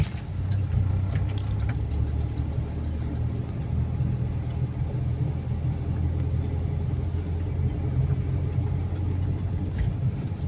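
A car moves slowly along a narrow hillside road toward a speed breaker, its engine a low, steady rumble heard alone and close for the whole stretch.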